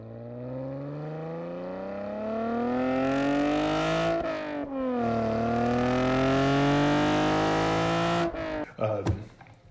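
A Chevrolet Camaro V6 1LE engine revs loud and close, pitch rising steadily, dropping at a shift, then climbing again before cutting off in a few sputters.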